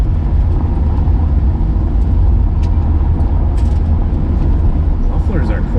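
A 1967 Rambler Rebel SST with an M11 transmission drives along, its engine a loud, steady low rumble with road noise inside the car, quiet mufflers, and faint talk over it.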